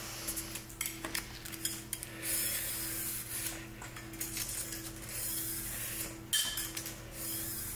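Sandpaper rubbing rust off metal parts of a 1961 David Bradley, a steady close scraping and rasping with irregular strokes over a low mechanical hum.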